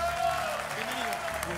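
A studio audience applauds on a television show, steady clapping with a voice talking over it.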